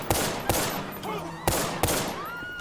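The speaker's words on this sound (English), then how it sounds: "Now let's listen to how this Glock sounds" Four sharp pistol shots from a modded Glock in GTA V, spaced roughly half a second apart, each a loud crisp crack followed by a short ringing tail and faint mechanical clinks between shots.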